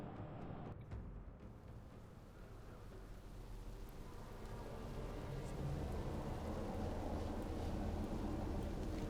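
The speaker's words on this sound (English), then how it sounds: "I love thunder." Steady rain with low rumbling thunder in a World of Warcraft MoP Remix game, a continuous wash of noise that swells and grows louder toward the end, with no talking.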